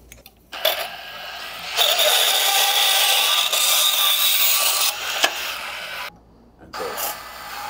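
A part is sawn down by hand while a home battery system is installed: close, continuous rasping strokes run on for several seconds, with brief pauses between bursts.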